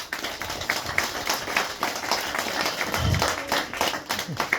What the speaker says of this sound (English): a bigger round of applause to all the women